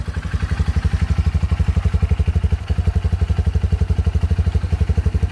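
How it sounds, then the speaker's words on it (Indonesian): A Honda CRF 150L motorcycle's SOHC engine idles steadily after starting, a close, loud, even thumping pulse with a light mechanical clatter and no voices. "bunyi standar dari mesin CR-F"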